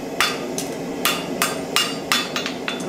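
A farrier's hammer tapping a symmetrical horseshoe to dent a mark on its outside, about eight crisp metallic strikes in an irregular rhythm, loud and close with no talking.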